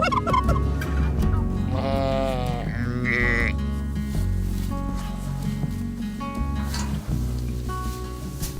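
A big tom turkey at an animal rescue sanctuary gobbling loudly and close by, rippling, throaty calls repeated several times, with other farm animal noise underneath.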